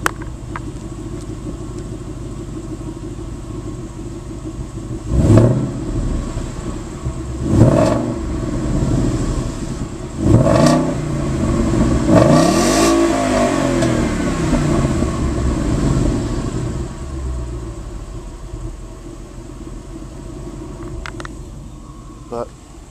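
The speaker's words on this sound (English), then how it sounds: "But we'll listen to the stock exhaust." A 2011 Ford Mustang GT with stock exhaust is revved several times while parked, each blip rising and falling over a steady idle, with a longer, deeper rev near the middle before settling back.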